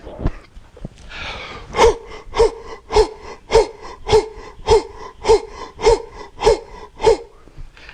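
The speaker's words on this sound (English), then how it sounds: "Okay, we're going to do breathing again." A forceful breathing exercise in a fitness class produces about ten sharp, rhythmic exhalation bursts, each about half a second apart, each loud and close with a snorting, gasping edge.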